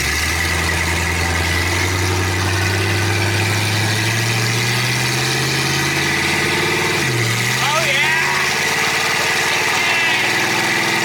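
A budget LS-swapped Mustang with a 4L80E automatic transmission runs close by, its engine drone climbing steadily before a sudden drop in pitch as it shifts, then pulling on again, with voices over the engine.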